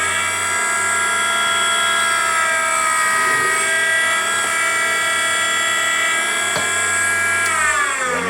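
A Henderson precision trimmer motor runs while trimming a brass cartridge case: a steady, loud, high-pitched mechanical whine with layered harmonic tones, holding evenly before shifting slightly near the end.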